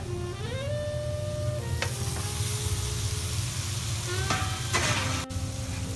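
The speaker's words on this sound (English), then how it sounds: "I'm going to now put the pasta in." Pasta tossed into a hot pan sets off a loud, steady sizzle that holds for several seconds, with a few stirring bumps and a faint tonal hum running underneath.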